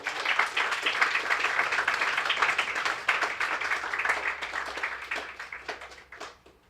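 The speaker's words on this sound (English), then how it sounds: "So give him a big round of applause." An audience at a foundation event applauds in a sustained round of clapping, fairly close and full, that tapers off toward the end.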